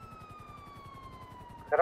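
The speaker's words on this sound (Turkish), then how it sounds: "Sireni kapatamıyorum." A police car siren in GTA V FiveM roleplay wails in a slow, steady downward glide, mid-level and continuous, with a low rumbling game backdrop and a louder burst at the very end.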